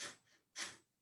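Two airy breaths close by during a pranayama breathing exercise, a strong intake, a softer one, then a second full deep inhale, quiet and unvoiced.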